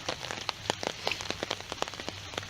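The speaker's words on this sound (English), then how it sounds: "It's raining like crazy." Heavy rain pours steadily on outdoor school grounds, a dense patter with sharp individual drops striking close by, continuous and loud with no voices.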